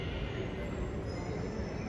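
A Delhi Metro train runs with a steady, loud low rumble and rolling wheel noise heard from inside, continuous and unbroken over the short span.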